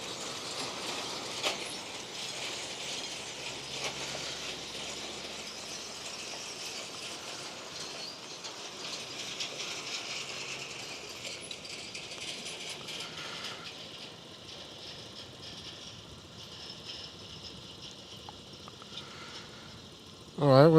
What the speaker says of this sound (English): here goes the road train